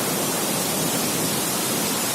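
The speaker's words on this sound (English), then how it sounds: "Check out the waterfall in the background" A waterfall on the Annapurna Base Camp trek in Nepal, heard from a suspension bridge, gives a steady, dense rush of broadband water noise. It runs unbroken and fairly loud from start to finish, with no voices.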